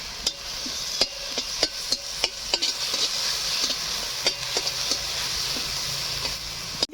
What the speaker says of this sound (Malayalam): ബ്രൗൺ കളറാവണം ഇളക്കി കൊടുക്കുക